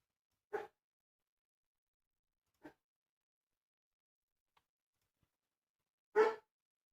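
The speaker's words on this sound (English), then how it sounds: "why are you barking?" A dog barks at home during a live trading stream: two sharp barks and a third louder one, widely spaced and alone in a quiet room.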